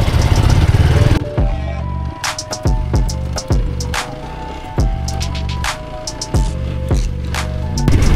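A motorcycle engine runs steadily while being ridden, its pitch rising and falling in repeated revving surges, loud and close throughout after a brief burst of noise at the start.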